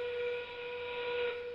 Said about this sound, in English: Whistle means it's endgame.